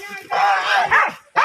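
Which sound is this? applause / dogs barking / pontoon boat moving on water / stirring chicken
dogs barking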